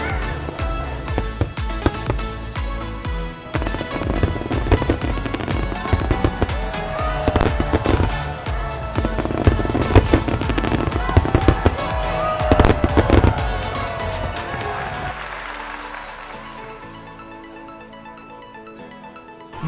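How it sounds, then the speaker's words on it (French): A fireworks display in Perth, Australia bursts with dense, continuous crackling and booming explosions, loud and sustained, with voices faintly among the noise before it fades to a quieter tail. "dans quelques minutes, le feu d'artifice devrait commencer"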